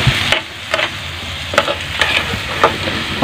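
Corned beef with egg sizzles steadily in a pan while a utensil scrapes and stirs it, giving several distinct scraping strokes over the constant loud frying hiss.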